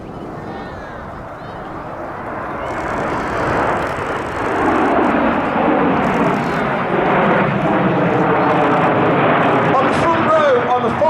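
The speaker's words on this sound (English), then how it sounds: "Team coming in from the right for the chevron roll." RAF Red Arrows jets fly a chevron roll at an air festival, a roar that swells from a distance and grows loud and sustained, with a commentator's voice over the top.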